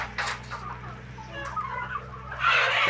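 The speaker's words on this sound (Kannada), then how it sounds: "ನಾಟಿ ಕೋಳಿ ಇದ್ದಾವೆ" Country hens cluck nearby at a poultry farm in short scattered bursts over a low, steady hum.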